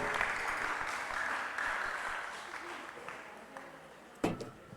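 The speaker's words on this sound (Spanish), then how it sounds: "Dale un aplauso a Dios porque Él ha sido bueno con nosotros" A church congregation claps in praise, a steady mass of applause at moderate distance that gradually thins, ending with a sharp louder clap or knock.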